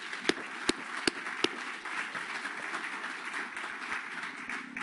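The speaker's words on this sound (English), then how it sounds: "please join me in giving the committee a round of applause for a job well done" Round of applause for a conference committee at an intellectual property meeting, opening with a few separate loud claps and then settling into a soft, steady patter of clapping across the room.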